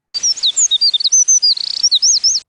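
A small bird chirping alone in a clean example recording, a rapid run of bright high tweets and trills with a quick fluttering burst in the middle, close and loud against silence.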